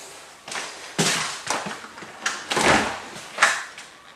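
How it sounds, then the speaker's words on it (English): An outside door of an off-grid tiny house shoved by the wind, giving a series of hollow thumps and rattling knocks about every half second, with a broad gusty rush building in the middle, fairly close and loud. "the wind caught the outside door"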